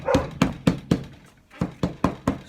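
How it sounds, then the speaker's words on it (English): A dog barks repeatedly in the background outdoors, about eight sharp, fairly loud barks in a quick, uneven rhythm, with a short pause midway. "My willow is barking at God knows what in the background."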